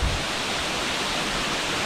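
Tamarao Falls in Puerto Galera, Oriental Mindoro, pours with a steady, dense roar of rushing water, constant and full without a break, heard close up.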